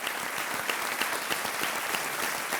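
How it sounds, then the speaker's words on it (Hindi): Studio audience applause on a televised quiz show, a continuous, even roar of many hands clapping at moderate loudness throughout, with no voices standing out. "तालियां बजती रहें"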